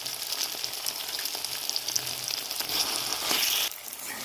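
A paste of mustard, poppy seed, nuts and melon seeds fries with onion and tomato in a pan, giving a steady, close, loud sizzle with occasional stirring scrapes.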